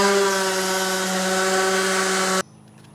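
A DEWALT 20V DW210B random orbital sander whirs at close range against a narrow piece of wood, giving a steady, loud motor whine that cuts off abruptly near the end.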